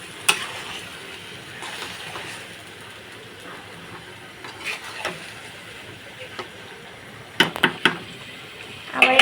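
Potatoes and spinach stalks are stirred in a cooking pot, with a soft steady simmering hiss and a few sharp utensil knocks against the pot, clustered near the end.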